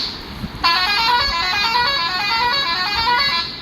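A bus horn honks in a long, loud sustained blast as the bus pulls out, steady for about three seconds with no talk.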